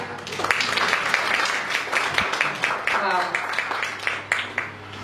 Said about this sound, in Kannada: ಅವರೆಲ್ಲ ಒಂದ್ ಜೋರಾಗಿ ಚಪ್ಪಾಳೆ ಕೊಡಿ